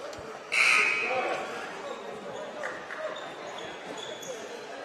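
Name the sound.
buzzer at a basketball game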